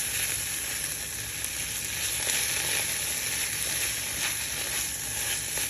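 Steak and eggs frying in a pan, a steady, even sizzle that holds at moderate loudness throughout with no talking.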